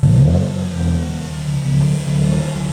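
A Nissan G35 drift car engine with a slipping clutch revs hard in short bursts, rising and dropping, close and loud, with a rough idle between blips.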